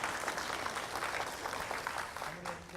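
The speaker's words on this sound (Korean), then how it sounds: "박수 치려면 확실히 치고요." Applause from party members at a Korean political party convention presentation contest, a soft continuous patter of clapping heard at a distance for a few seconds.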